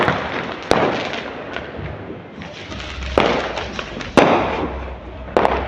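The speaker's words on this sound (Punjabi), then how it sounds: "ਰਾਤ ਨੇ ਕਾਫੀ ਪਟਾਕੇ ਚੱਲਦੇ ਪਏ ਸ਼ੁਰੂ ਹੋ ਗਏ ਨੇ ਪਟਾਕੇ ਵੱਜਣੇ" Several sharp Diwali firecracker bangs go off at irregular intervals in a village at night, some close and loud, others further off, over a steady crackling background of distant fireworks.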